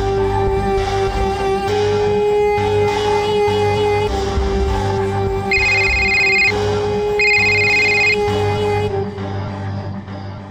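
A telephone rings twice in a domestic setting, a bright electronic ringtone standing out loud and close over a steady musical background, the second burst ending as the music fades.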